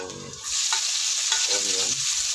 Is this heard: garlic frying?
yes